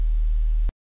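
A noise layer from the Serum software synthesizer hisses over a deep, loud, sustained bass tone for about seven tenths of a second, then stops sharply into silence.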